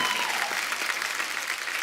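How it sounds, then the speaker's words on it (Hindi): Studio audience at a comedy talk show breaking into loud, dense applause, a continuous wash of many hands clapping at once, sustained and even throughout with no clear voices on top. "एक बार जोरदार तालियां हो जाएं"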